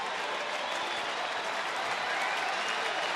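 Baseball crowd cheering and clapping for pitcher Koji Uehara as he works toward a strikeout, a sustained roar of applause that swells slightly toward the end.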